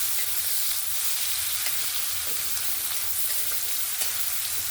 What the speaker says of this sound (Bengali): ফোড়নটা ভেজে নেওয়ার পরে আমি এখানে পেঁয়াজটা দিয়ে দিয়েছি।